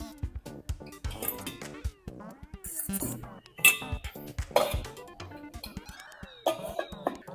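A metal spoon clinks against a bowl while set curd made from A2 milk is scooped, giving scattered close clinks and scrapes mixed with a cough and brief speech.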